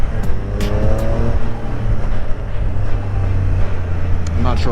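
A 2021 Triumph Street Triple RS motorcycle engine hums close by under throttle on a ride, with a steady droning tone, some rushing noise over it, and a rising rev near the end.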